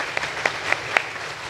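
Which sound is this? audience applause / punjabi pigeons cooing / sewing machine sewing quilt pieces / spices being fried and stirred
audience applause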